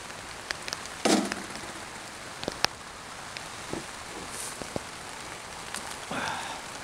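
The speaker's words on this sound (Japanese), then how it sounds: "今日は雨が降ってるから" Light rain falls on an open vegetable field during a carrot harvest, a soft steady patter broken by scattered close drips, taps and brief rustles of handling.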